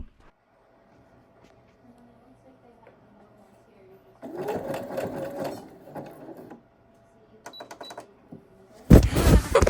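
A sewing machine runs a zigzag stitch to attach fabric patches, whirring in a loud burst of a couple of seconds and then in a shorter run, with near-silence between and a sharp clatter at the end.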